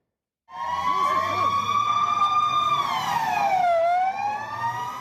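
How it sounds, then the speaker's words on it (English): A loud police siren wails steadily close by in Tel Aviv, Israel, its pitch holding then sweeping down and back up, with faint traffic rumble underneath. "Police sirens blaring in Israel's commercial capital"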